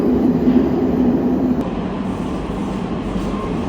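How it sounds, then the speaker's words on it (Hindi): A metro train in Rome rumbles along in a steady, loud, enclosed drone of wheels and motor, with a faint tonal whine fading partway through. "सबसे पहले मैं मेट्रो पकड़ रहा हूँ क्योंकि लेट नहीं होना चाहता मैं।"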